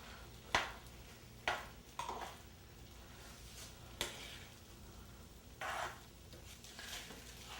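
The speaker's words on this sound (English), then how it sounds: "Then I'm going to add, of course, my spicy Italian sausage and get all the juice that's in there as well." Spicy Italian sausage with its juices cooks in a pan with peppers for paella, giving a soft sizzle with intermittent stirring scrapes and knocks, fairly faint.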